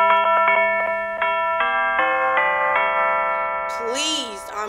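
Bright, chime-like tones ring out the Jingle Bells tune note by note at a Christmas special, ending in a short sliding, wobbling tone, loud and clear.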